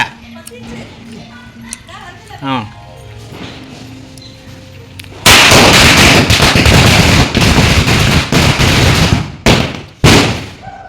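A rapid burst of loud Diwali firecracker bangs erupts after a stretch of quieter background, crackling densely for several seconds with a few sharp final pops.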